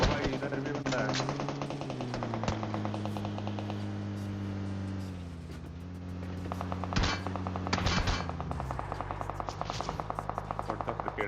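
Rapid machine-gun bursts and single gunshots fire in a video game shootout, a dense continuous rattle with a steady hum beneath, loud and close throughout.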